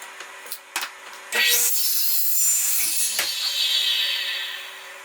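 A hand saw cuts a piece of wood to make chisel handles, with a few short scraping strokes and then longer, continuous rasping strokes close to the microphone.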